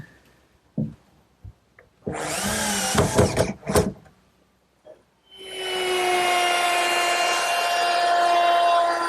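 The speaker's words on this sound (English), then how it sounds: "I'm ready to fasten it down with some regular screws" Power drill driving regular screws into a wooden chest-of-drawers top in a woodworking shop: a few light knocks, then two bursts of whirring drilling, and finally a long, loud, steady high whine.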